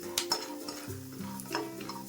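Peanuts and cashews fry in oil in a pan, a soft sizzle broken by stirring clicks and a few scrapes, close and fairly quiet.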